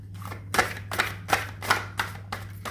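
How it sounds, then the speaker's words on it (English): A deck of tarot cards is shuffled by hand in about five crisp, evenly spaced riffling bursts over a steady low electrical hum. "So I'm just going to shuffle the cards and choose one card."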